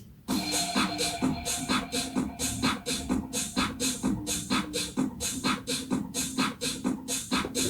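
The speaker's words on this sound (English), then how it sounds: "you've got the 808, the sub bass, and the drums playing" Electronic track section with a booming 808 and sub bass under a steady, punchy drum pattern and a sweeping texture, loud and continuous with regular rhythmic hits throughout.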